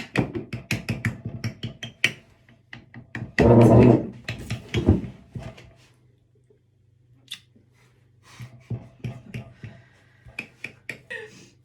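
A fork pricks thinly spread homemade pizza dough in a home kitchen: irregular bursts of quick, sharp close taps, a louder brief rustling thump midway, then a quiet pause before sparser taps resume.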